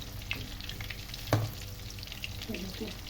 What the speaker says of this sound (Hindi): तो अब इसको अच्छी तरह से फ्राई कर लेंगे, गोल्डन ब्राउन करेंगे।